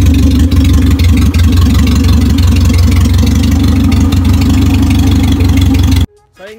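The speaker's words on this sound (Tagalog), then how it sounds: "Ito nyo naman guys, idle pa lang yan." A camouflage owner-type jeep, a Philippine build inspired by Joel Tan, idles with a loud, steady, deep engine rumble up close for about six seconds before it cuts off abruptly.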